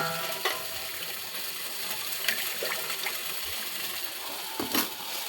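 Okra frying in oil in a pan for a mustard okra dish, giving a steady close sizzle throughout with a few faint scraping or stirring taps.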